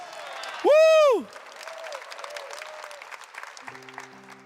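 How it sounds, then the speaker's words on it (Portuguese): A church congregation claps for the word of God during an evangelical service; a loud swooping tone opens, then steady, fairly faint applause runs to the end under a low hum. "Dá uma salva de palmas para a palavra do Senhor."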